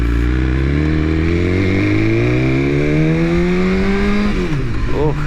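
A BMW S1000RR sports motorcycle engine revving loudly and close, its pitch climbing steadily over several seconds before dropping sharply and blipping again with crackling pops.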